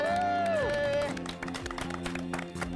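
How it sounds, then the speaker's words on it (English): An outdoor audience in Jordan applauds as a cook takes a bow after an underground grill is lifted from the ground. Brisk, fairly close clapping from a small crowd starts after a sustained tone, with a voice talking over it. "Amir takes his bow as the audience applauds."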